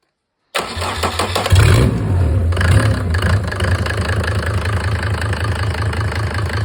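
A Mercedes OM602 2.9-litre diesel engine cranks and catches after a brief silence, then runs at a loud, steady idle with a slight rev early on.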